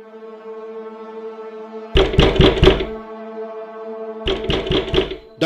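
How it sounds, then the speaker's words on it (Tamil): Two quick bursts of four or five sharp knocks on a door during a Tamil stage skit about Ida Scudder, loud and close against a quiet room, with a pause between the sets. "யார் இந்த நேரத்துல கதவு தட்டுறது?"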